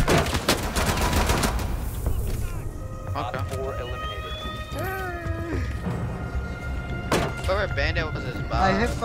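Gunfire in a Rainbow Six match: a dense cluster of shots at the start and another burst near the end, with a steady game din and a voice talking throughout.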